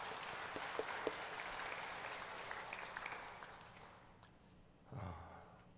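A church congregation applauds a praise team at an evening worship service, a soft, dense wash of clapping that fades out toward the end, followed by a brief low murmur.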